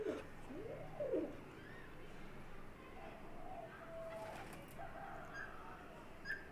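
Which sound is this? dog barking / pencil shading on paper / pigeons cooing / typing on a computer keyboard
pigeons cooing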